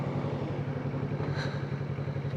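Trail motorcycle ridden off-road, its engine a steady mid-pitched drone with a rhythmic low pulse throughout, fairly close and unbroken, no talk over it.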